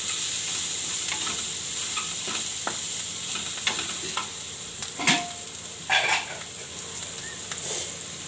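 Spiced dal with masala and coriander is stirred in a hot pan, giving a steady sizzle and frying hiss with a few louder scraping strokes of the spoon near the end.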